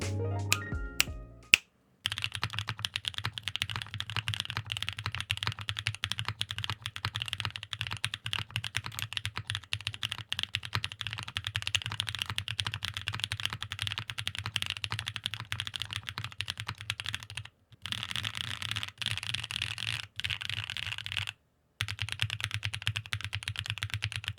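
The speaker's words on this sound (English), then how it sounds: "Let's take a quick listen to the switches after I lubed over the Light Factory lube" Steady, muted typing on lubed KNC Keys Black Jacket mechanical switches, soft thocky keystrokes in a quick continuous rhythm, close up with no talking.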